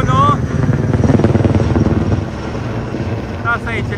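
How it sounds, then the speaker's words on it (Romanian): A firefighting helicopter flies overhead near Athens, its rotor thumping rhythmically and loudly at first, then fading to a steady drone, while people talk nearby. "Asta aici, elicopterul deasupra noastră. Merge să stingă focul."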